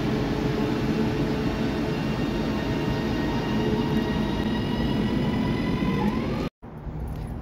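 Steady loud rumble of a train ride on the West Yorkshire metro, with continuous wheel and carriage noise and faint squeal tones, briefly cut to silence near the end before resuming.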